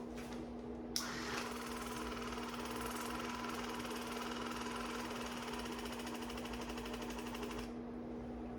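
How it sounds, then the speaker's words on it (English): A Waterpik water flosser runs steadily close up, a continuous motorized buzz with a pulsing hum that chugs slightly as the tip moves around the teeth, ending abruptly when it switches off. "The Waterpik's going to chug when I get around my teeth."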